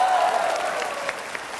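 Applause from an audience at a parody parliamentary session, a dense burst of clapping that starts loud and gradually thins out over a second and a half.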